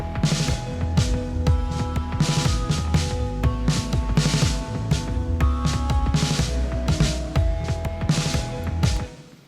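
A Logic Pro X backing track without its piano melody plays alone, with punchy drums, bass and sustained chords keeping a steady, busy rhythm before stopping abruptly at the end.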